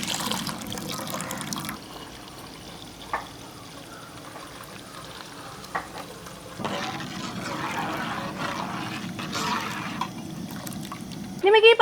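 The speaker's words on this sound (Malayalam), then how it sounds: "ഇനി നമുക്ക് കുറച്ച് പാലും കൂടി ഒഴിക്കണം" Milk is poured into a pan while making coconut pongu payasam, a soft trickling and splashing of liquid that comes and goes in stretches, with a voice talking through much of it.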